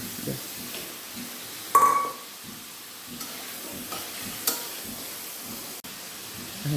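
Potatoes go into a thick spice paste frying in oil for a thin hilsa fish curry with bitter gourd, giving a low, steady sizzle broken by a few soft stirring clinks and scrapes, fairly quiet.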